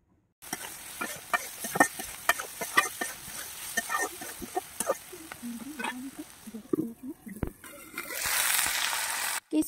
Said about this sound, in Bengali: এখন আমি আবার কিছুক্ষণের জন্য খুব সুন্দর করে নেড়ে চেড়ে নেব